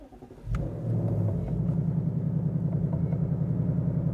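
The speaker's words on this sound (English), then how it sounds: "Will fire up that 5-liter V8 engine, which now makes 480 horsepower" A 2024 Ford Mustang convertible's 5-liter V8 fires up with a sharp crank and catch, flares briefly, then settles into a deep, throbbing, steady idle close by.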